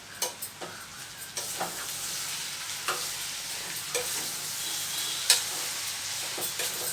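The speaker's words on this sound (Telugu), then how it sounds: "సగానికి ఎక్కువే మగ్గిపోవాలండి దొండకాయలు అప్పుడే బాగా ఫ్రై అవుతాయి" Chopped ivy gourds (dondakaya) fry in a pan with a steady soft sizzle, broken by occasional scraping stirs of a spoon and one sharp metallic clink, close and fairly quiet with no talking.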